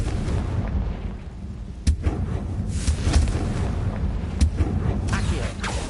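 A Confringo fire spell blasts in Hogwarts Legacy, landing as sharp booming impacts at about two and four and a half seconds over a constant rumbling game backdrop with smaller crackles between.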